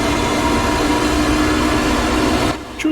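A train rolling past at close range, a loud steady broadband rumble with a sustained tonal hum that drops off abruptly near the end as it clears.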